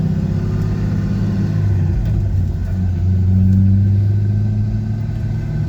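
A Chevrolet Corvette C5 with a rebuilt T56 transmission on its first test ride, the shifter boot not seated so driveline tunnel noise comes through: a steady, loud low engine and road drone with a humming rumble, no talk.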